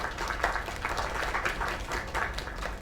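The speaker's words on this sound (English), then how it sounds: "Another round of applause." Audience applause, fairly faint and somewhat distant, a continuous patter of many hands clapping that swells slightly in waves.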